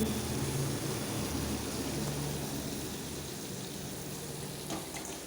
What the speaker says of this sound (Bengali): কাঁকড়াটা আমি ভালোভাবে ভেজে নেব